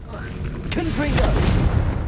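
A Confringo blasting curse in Hogwarts Legacy lands with a booming explosion and a rumbling, crackling tail, while a voice talks faintly underneath.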